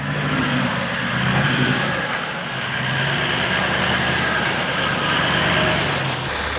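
Big V8 engine of a Toyota 40 Series pulling steadily through snow on a high-country mountain road, a continuous loud rumble with rising and easing revs and no talk.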